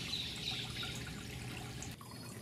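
Small garden water feature beside a lodge veranda in Belize, trickling steadily and softly at close range for the whole stretch, a gentle continuous babble of water with no voices.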